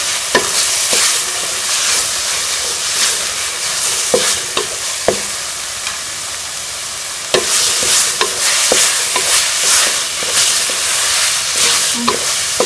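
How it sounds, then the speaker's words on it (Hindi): Minced meat frying with dry spices in a karahi, a constant loud sizzle with repeated scraping and clacking of a spoon stirring the keema, close up and with no talking. "इसे भी अच्छी तरह से मसालों को जो है वो कीमे के साथ भून लेंगे"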